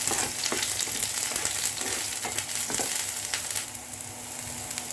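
Garlic and onion frying in a pan, a loud, dense sizzle with light scraping stirs throughout that eases slightly near the end, no speech over it.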